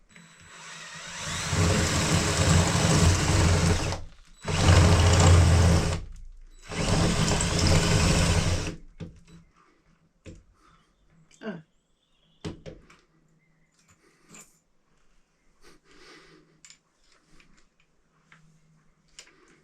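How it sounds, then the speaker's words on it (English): A power drill boring a hole in a home garage project, three loud sustained bursts of whirring in the first nine seconds separated by short pauses, followed by faint scattered clicks and handling noises. "Yeah, I've drilled it."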